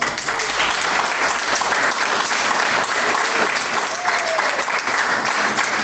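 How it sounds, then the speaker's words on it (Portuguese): A church congregation applauds during a sermon, steady dense clapping from a crowd filling the room for several seconds at fairly loud level, with no speech over it. "Bate palmas."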